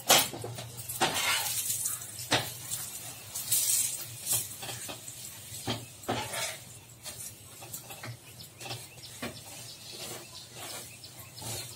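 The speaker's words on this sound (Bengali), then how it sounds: "এই দেখো একদম লাল লাল করে আমি ভেজে নিয়েছি সুন্দর করে, আবারও ভেজে নিচ্ছে এইভাবে।" Aloo paratha frying in oil in a pan, a steady crackling sizzle with scattered sharp pops and ticks running throughout, close and fairly quiet, with no talking.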